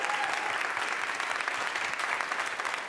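Audience applause for a musician on a Costa Rican TV music show, a steady dense wash of clapping from a crowd, continuous and fairly loud throughout with no voices on top.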